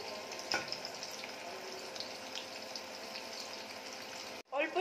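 Garlic, green chili and onion fry in a pan for a Chinese-style veg Manchurian, giving a steady close sizzle that runs unbroken until a brief cut near the end, followed by a short louder burst.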